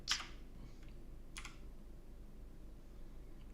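Typing on a computer keyboard, a few quiet, brief key clicks: one near the start and another about a second later, then soft background hiss.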